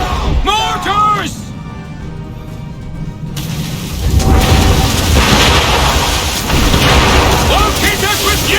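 Mortar explosions in the naval combat of the video game Assassin's Creed III, heavy booming blasts rolling in amid loud battle noise, with shouted voices and music over the din.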